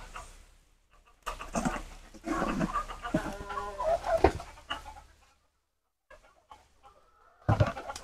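Farm chickens cluck in bursts at close range, scratching around at feeding time, with pauses of near silence between the calls and a few sharper squawks near the end.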